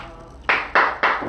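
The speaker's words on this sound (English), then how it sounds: "Now you can clap." Hands clap in a short burst of three sharp, loud claps in steady rhythm, close by, following a brief quiet lead-in.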